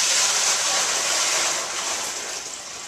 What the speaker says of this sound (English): I'm going to pour it into this ice chest.